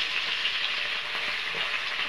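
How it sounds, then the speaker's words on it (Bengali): Small ila fish fry in hot oil in a pan, producing a bright, even hiss that carries on steadily without pauses, close and unaccompanied by speech. "বাকি মাছগুলো ভেজে নেব।"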